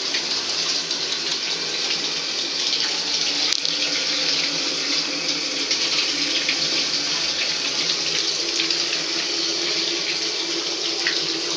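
A tap runs steadily and loudly while a dog gets a bath, a continuous broadband gush of water filling or splashing in a sink or tub with no voices over it.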